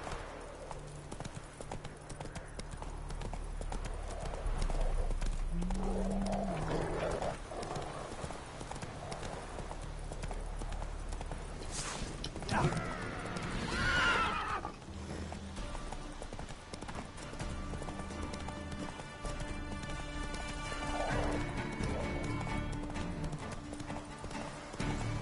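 Roach, the horse in The Witcher 3, clip-clopping in a steady hoofbeat rhythm, with a snort or whinny in the middle, game ambience and a voice speaking at times.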